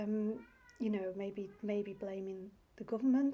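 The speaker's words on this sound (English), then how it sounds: "I apologise for my cat." A housecat meows loudly in several drawn-out, wavering cries close by, mixed in with a person talking at home.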